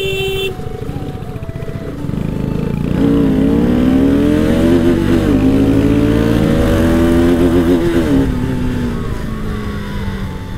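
A Royal Enfield Bullet motorcycle revs and pulls hard while being ridden over sandy ground, its loud engine rising and falling in pitch through steady acceleration, close up and alone without talk.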